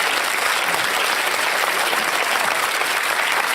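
Studio audience applauding the panellists on a televised panel discussion show, steady dense clapping filling the room throughout, loud and continuous with no pauses.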